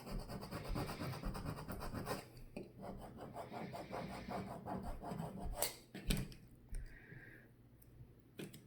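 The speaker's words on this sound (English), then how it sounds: "I'm gonna go ahead and grab the scraper and just scrape it under" A scraper rasps and scrapes over vinyl on a wooden Christmas ornament blank in a rapid, rhythmic series of close strokes, pausing briefly near the end before a few lighter scratches.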